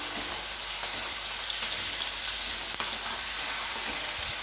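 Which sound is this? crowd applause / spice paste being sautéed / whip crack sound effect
spice paste being sautéed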